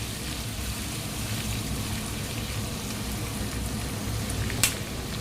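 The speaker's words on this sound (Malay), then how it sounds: "Sekarang kita tumis bawang putih, halia, bawang Holland kita tumis hingga layu" Garlic, ginger and onion sautéing in leftover frying oil, giving a dense, even sizzle close up with one brief sharp clink near the end.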